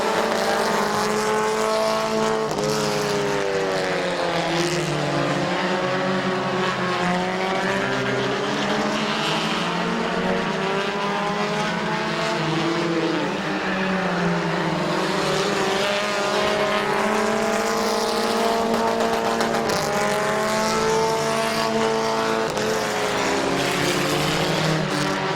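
Stock cars racing around a speedway oval at Midvale Speedway, engines roaring together in a loud, continuous drone that rises and falls in pitch as the pack passes through the turns, with no talk.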